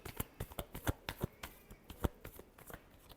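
Tarot cards riffle and slap in a final close-up shuffle, a quick run of sharp papery bursts with short gaps, no voices.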